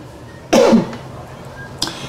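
A single sharp cough bursts out close by, followed a moment later by a softer short cough, over a quiet background.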